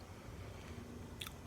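Thick, crunchy no-name generic tortilla chips bitten and crunched up close, a brief quiet chewing texture ending in a sharper crunch, with no talking.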